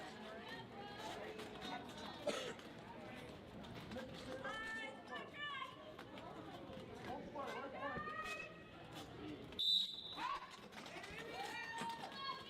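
A referee's whistle blows sharply to start a jam at a roller derby bout, a single short high blast cutting through the arena crowd's steady chatter and the announcer's commentary.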